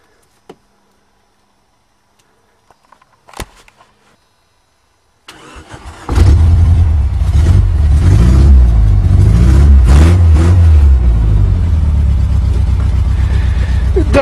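Suzuki Tracker with a rough three-cylinder-running engine: a few faint clicks and taps, then the starter cranks and the engine catches, roaring loudly and steadily up close as it idles and revs while pulling away.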